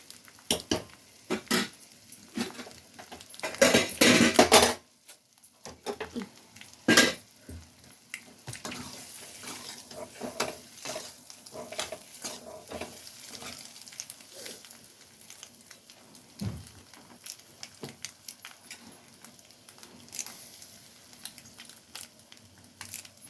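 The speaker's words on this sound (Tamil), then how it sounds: "முட்டை ஃப்ரை தீயில மிளகாத்தூள் வாசனை." Egg frying in a pan over a flame with chili powder: a steady crackling sizzle with scattered sharp pops and a louder burst of spatter near the start, heard without talk.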